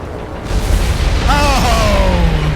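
Bombs dropped by attacking aircraft explode in the War on the Sea naval combat game, a loud rumbling boom swelling under steady engine drone while a voice shouts over it.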